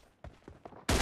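Video game gunfire: a few sharp shots in quick succession, then a loud, dense burst of fire at the end, with no voices.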